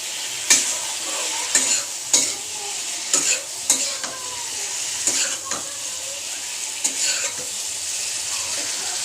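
Boiled pasta stir-fried in a pan with soy sauce and tomato ketchup, steady sizzle punctuated by repeated sharp scrapes and clinks of a spatula against the pan, close and alone.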